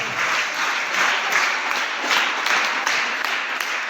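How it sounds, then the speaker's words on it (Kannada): Audience applause at a school felicitation ceremony, steady dense clapping filling the room for the full stretch, loud and close with no talk over it. "ಜೋರಾದ ಚಪ್ಪಾಳೆ ಬರಬೇಕು"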